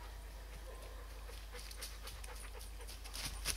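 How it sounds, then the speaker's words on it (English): Dogs far off in the distance, audible as faint panting and whimpering noises over a steady low outdoor rumble. "I can hear dogs freaking out."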